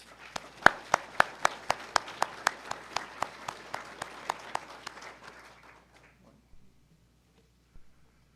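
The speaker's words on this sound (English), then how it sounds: "Let's give all these people an applause." Audience applause at an annual meeting, a steady burst of many hands clapping with a few louder claps up front, running about six seconds before fading out, then a faint knock near the end.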